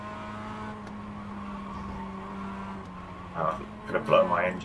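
Mazda MX-5 engine in the iRacing sim at Charlotte Roval, steady harmonic drone that jumps in pitch through a quick double downshift near the end, with someone talking over it.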